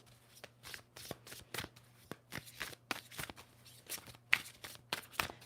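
Tarot cards being shuffled repeatedly, crisp riffling bursts recurring every half second or so, close and fairly quiet over a low steady hum.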